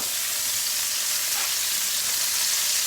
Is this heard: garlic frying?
yes